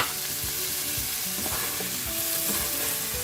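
Spicy pork and potatoes get tossed in a hot pan with lemon juice and cilantro, a loud close sizzle broken by repeated scraping and clattering stir strokes, no voices.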